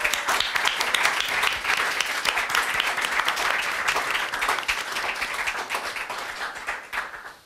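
Audience applause at a press conference for the International Rostrum of Composers, dense sustained clapping from a crowd, fairly close, tapering off at the end.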